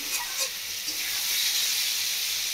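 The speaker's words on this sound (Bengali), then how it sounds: "আলুগুলো ভালো করে একটু কষানো হয়ে গেছে" Potatoes frying in a pan for rui fish curry with green banana, a steady close hiss and sizzle with a few faint clinks at the start.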